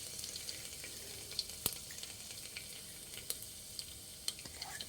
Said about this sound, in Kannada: ಎಣ್ಣೆ ಜೀರಿಗೆ ಸಾಸಿವೆ ಮತ್ತು ಜೀರಿಗೆ ಹಾಕ್ಕೊಂಡಿದ್ದೀನಿ.